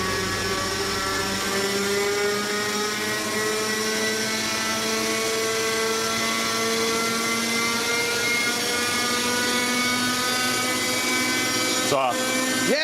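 A small model helicopter hovers with a steady, high whining rotor drone that holds constant throughout, with a brief clatter near the end.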